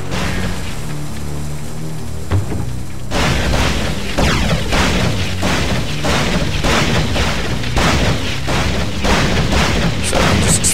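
Explosions and combat in the RuneScape video game, a quiet opening followed by a dense run of repeated booming bursts and crashes in quick succession, loud and without speech.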